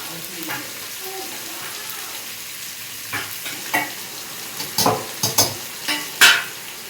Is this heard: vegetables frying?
yes